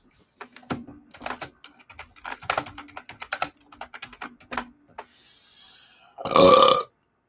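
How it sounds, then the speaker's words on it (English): Rapid keyboard typing clicks for several seconds, then a single loud, close burp lasting about half a second ends the sequence. "you heard the burp"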